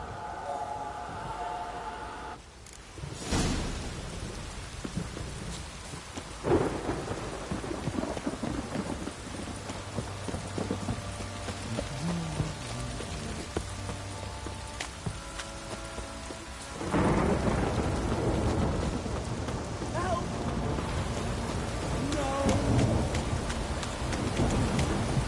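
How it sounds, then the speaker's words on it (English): Heavy downpour hisses steadily in The Witcher 3, with deep rolling thunder cracks and rumbles breaking through several times, and a voice speaking briefly in the middle. "This downpour's a bastard"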